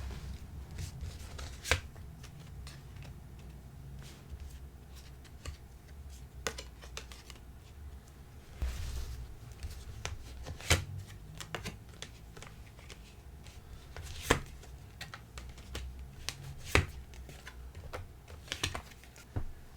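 Advice cards for a tarot-style reading being shuffled and drawn, giving soft rustling with sharp snapping card flicks at irregular intervals, close and fairly quiet with no talking.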